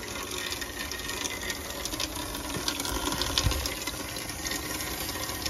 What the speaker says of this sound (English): I hear this leak down this way.